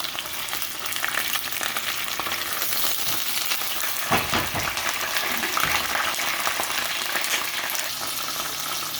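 Ginger and garlic paste fries in a pan with a dense, continuous crackling sizzle that holds fairly steady, with a few louder bursts midway as the paste is moved around.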